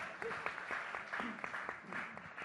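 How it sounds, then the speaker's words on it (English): A podcast-industry audience applauds in a room, quiet and somewhat distant clapping from a modest crowd, steady with scattered crisp claps and faint voices underneath. "deserves a round of applause"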